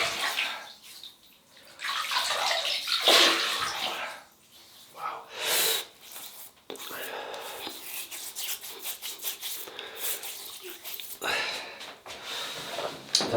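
Water splashes and rubs against a face as it is wet before a shave, in close, uneven bursts of splashing with a short pause between them.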